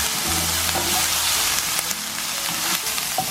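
Chopped onion and green chilli sauté in a hot pan, giving a loud, continuous sizzle up close, with a few faint clicks from stirring and no voices.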